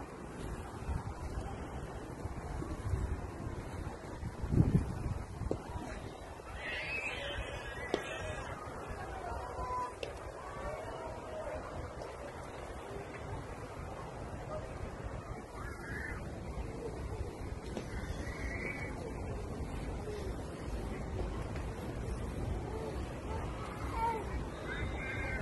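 Sea waves and steady wind at a beach in Mohammedia, a constant broad roar of surf with heavy wind buffeting the microphone throughout, one louder gust or crash near the start.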